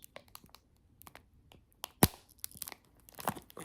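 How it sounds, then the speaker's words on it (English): A chocolate bar snapped apart during a crunch test gives a single sharp, close crack, surrounded by faint crinkling and rustling. A few more small crisp snaps and crackles follow, with no voices. "Crunch test or break test."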